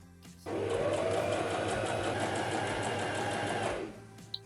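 A sewing machine runs steadily for about three seconds as it top-stitches a pressed French seam on a summer dress, close and even, with a faint click at the end and no talk.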